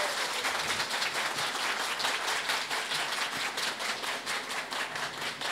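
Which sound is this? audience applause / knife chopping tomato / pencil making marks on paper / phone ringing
audience applause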